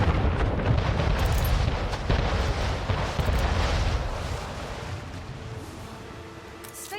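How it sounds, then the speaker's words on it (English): Mortar barrage in the Anno 1800 game, five projectiles exploding on impact: a dense, loud roar of overlapping blasts and rumble that gradually tapers off toward the end, with no voices. "That mortar is absolutely crazy. Fires a barrage of 5 projectiles in an arc, with each exploding on impact."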